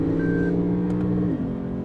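A Lexus RC F engine hums loudly from inside the car under steady load, its tone dropping partway through as the automatic gearbox makes a quick shift.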